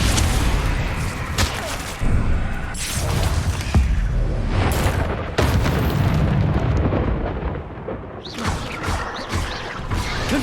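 Bombarda and Confringo spells burst into repeated booming explosions with crashing debris in the Hogwarts Legacy video game, loud and dense throughout with brief pauses between blasts.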